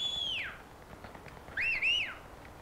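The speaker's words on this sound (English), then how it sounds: "Who is whistling?" Whistling in the online game Cuisine Royale: two clear, fairly faint whistles, the first a single falling tone, the second a rising-and-falling double phrase a second later, over quiet background hiss.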